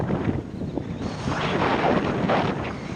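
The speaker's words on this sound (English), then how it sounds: "There, we turned into the wind." Steady roar of wind buffeting the microphone during a group road bike ride into a headwind, loud and continuous with broadband rumble throughout.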